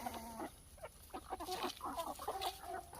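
A backyard chicken in a food-forest coop keeps up a steady, close run of soft clucks and murmuring calls, with other faint bird sounds behind it.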